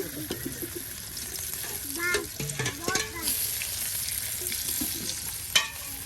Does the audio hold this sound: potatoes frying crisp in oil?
yes